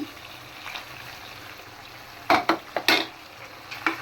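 Snakehead fish pieces dropped into a frying curry with potatoes, a quiet sizzle broken by a few sharp splashing clatters as the pieces go in.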